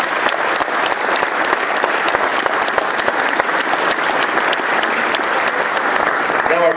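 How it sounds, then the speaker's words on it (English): Audience applause at a 50-year celebration event, a dense, steady roar of many clapping hands filling the room at full volume for the whole stretch, with faint voices mixed in. "I think we should all give him a round of applause for his commitment."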